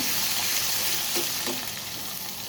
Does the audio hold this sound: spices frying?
yes